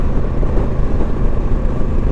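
A Honda Africa Twin Adventure Sports motorcycle with a manual gearbox is heard while riding: a steady low engine drone mixed with heavy wind rush, continuous and loud throughout.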